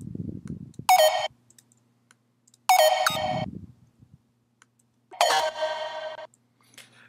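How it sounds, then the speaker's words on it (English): Bright, distorted square-wave synth stabs pitched along with vocals in a heavy future bass track, three short buzzy bursts with low vocal-like phrases between them and near-silent gaps. "The next sound I have here is just a square wave that I distorted and pitched along with some of the vocals"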